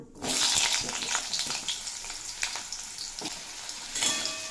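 Potato pieces frying in hot oil with whole cumin seeds in a pan over medium flame, a steady close sizzle broken by scraping stirs and occasional spatters.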